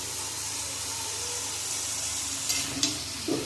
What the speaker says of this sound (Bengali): কাঁচা লঙ্কা তো লাউগুলো একটু ভালো করে কষিয়ে নেব লাউটা বেশ কিছুক্ষণ কষিয়ে নেব